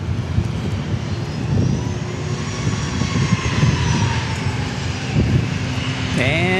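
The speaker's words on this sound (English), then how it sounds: "And it appears we have an arrival, a Citation Mustang." A small Cessna Citation Mustang business jet arrives at Dallas Love Field, its engine roar and rumble building steadily outdoors with a rising whine near the end, while people talk over it.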